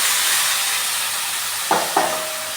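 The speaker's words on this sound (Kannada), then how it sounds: "ಟೊಮೆಟೊನು ಚೆನ್ನಾಗಿ ಎಣ್ಣೆ ಒಳಗೆ ಫ್ರೈ ಮಾಡ್ಕೊಳ್ಳೋಣ್ರಿ." Tomatoes fry in oil for a paneer masala gravy, giving a steady close sizzling hiss, then two quick thuds of a spoon against the pan near the end.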